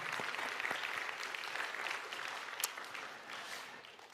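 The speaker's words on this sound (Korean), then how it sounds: "우리 축복하는 마음으로 우리 박수 보내주시면 감사하겠습니다" A church congregation applauds its worship team after a praise set, sustained clapping from many hands at moderate level that gradually thins and fades toward the end.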